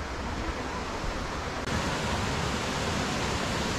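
Stream flowing through a mountain valley along an autumn trail toward Haeinsa temple in Korea, a dense, steady rush of water that jumps slightly louder midway, close and continuous with no voices.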